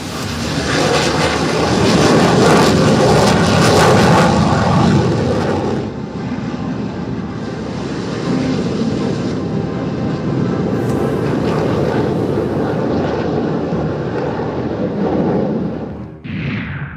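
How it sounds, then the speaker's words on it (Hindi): Fighter jets roaring low over the desert during an Indian military air exercise, a loud continuous jet engine rumble that swells and holds for the full span, with no talk. "रेगिस्तान में गरजे लड़ाकू विमान"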